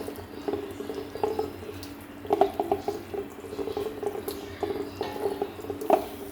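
Water goes into a pan of small kachki fish being cooked spicy, splashing and trickling at close range in light, uneven bursts with a few clinks, and no one speaking.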